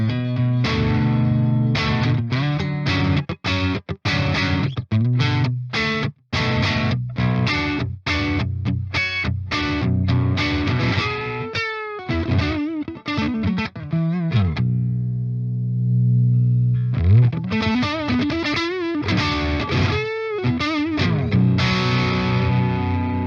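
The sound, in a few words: metal guitar through Bogren BH4 amp plugin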